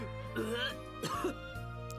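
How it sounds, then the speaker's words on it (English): A character in the Iwaihime visual novel game coughs and clears a throat thick with phlegm, two short close bursts over steady background music. "Sho spat in disgust and coughed up phlegm."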